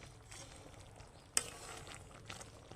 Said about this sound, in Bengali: এই সময় কিন্তু হালকা হাতে এটাকে নেড়ে দিতে হবে খুব বেশি জোরে নাড়ার প্রয়োজন নেই